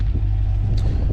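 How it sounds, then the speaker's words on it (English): A new C8 Corvette parked at a mountain spot rumbles through its exhaust, a deep, steady low-end drone heard up close and fairly loud, with no talking over it. "the exhaust system sounds great to me"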